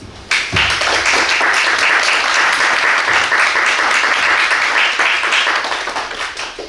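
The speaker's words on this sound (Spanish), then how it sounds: "Le damos la bienvenida con un caluroso aplauso" Warm applause from a lecture-hall audience welcoming a speaker at a conference on Central American political poetry, bursting in sharply and holding loud and dense before tapering off near the end.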